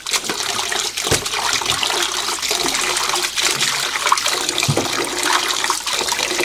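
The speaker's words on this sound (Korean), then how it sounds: "물을 조금 갈아가면서 이렇게 한나절 정도 좀 담가 놓으시면 물이 좀 빠집니다" Water pours and splashes continuously in a basin where pepper leaves are soaked and rinsed, a close, steady rushing trickle with small sloshes and clunks throughout.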